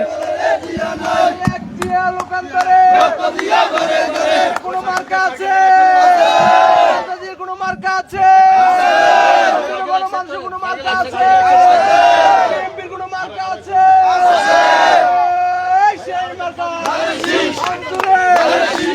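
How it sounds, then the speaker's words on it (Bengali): A crowd of political supporters marching in a procession in Sandwip, Chattogram chant slogans in loud rhythmic call-and-response waves, repeated swells of massed voices close by with brief pauses between. "অসংখ্য নেতাকর্মীরা তারা অপেক্ষা রয়েছেন তারা মিছিল করছেন স্লোগান দিচ্ছেন"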